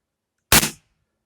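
A CO2 air rifle fired with its barrel removed gives one sharp, very loud crack that decays quickly into silence.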